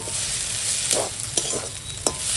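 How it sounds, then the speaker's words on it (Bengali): Loitta fish is stirred while it fries in a pan, a continuous close sizzle broken by several soft scrapes and knocks of the spatula. "এখন এইভাবে নেড়ে নেড়ে লটিয়া মাছ রান্না করবে"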